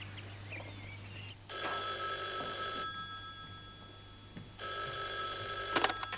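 An old landline telephone rings twice in the 1988 French drama series L'affaire Saint-Romans, each ring a bright bell trill lasting over a second, separated by a quiet pause over a low mains hum.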